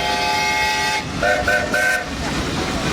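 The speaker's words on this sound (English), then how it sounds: "3 blasts on the whistle, that's the signal to stop here" A steam locomotive whistle sounds a long blast, then shorter blasts follow close and loud over the chuff and rumble of the train.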